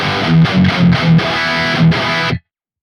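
Electric guitar played through the Archetype: Gojira X amp with no overdrive, heavily distorted palm-muted chugs in a quick rhythmic pattern with brief gaps, ending abruptly.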